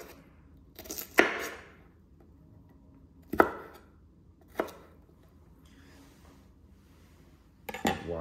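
A knife chops onion and other vegetables into small pieces on a cutting board while making tofu bolognese, sounding as four separate sharp thumps spaced a second or more apart, close and clear against a quiet kitchen.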